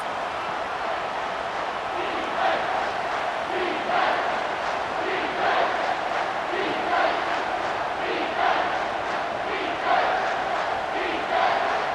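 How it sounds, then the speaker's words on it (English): A home crowd roars in a College Football 25 video game during an Ohio State versus Michigan matchup, a loud sustained stadium din with rhythmic surges of chanting. "Here comes this home crowd"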